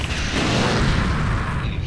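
Gunfire at a cow in the game FreeDoom, a heavy booming blast with a dense low rumble that fills the whole moment without a break.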